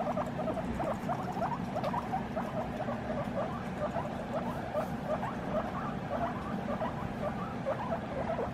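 Hairless skinny pig guinea pigs chattering at cage cleaning time: a steady stream of soft, rapid squeaks and teeth-chatter clicks, fairly faint and close, with no talking.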